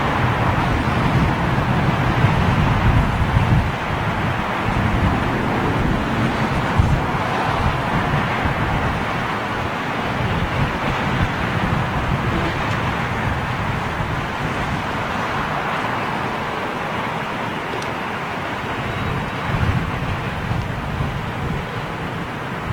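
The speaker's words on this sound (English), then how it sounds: "the engines firing up." British Airways Boeing 747 engines spooling up at London Heathrow as the jet pushes back, a steady, fairly distant broadband roar that holds level for over twenty seconds with wind-like rumble underneath.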